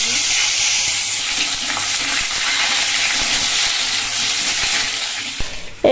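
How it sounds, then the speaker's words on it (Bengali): Potatoes frying in hot oil in a home kitchen give off a steady, loud sizzle and hiss that runs continuously, with occasional stirring clicks and a sharp knock at the very end. "ওই তেলের মধ্যে এবার আমি আলুগুলো ভেজে"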